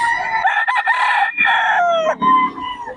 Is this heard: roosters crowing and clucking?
yes